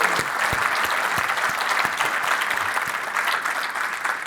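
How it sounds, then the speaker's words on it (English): A conference audience at a Puppetize PDX closing address applauds in a sustained, even round of clapping with a few sharper individual claps standing out, and no speech over it. "So please a round of applause for Vox"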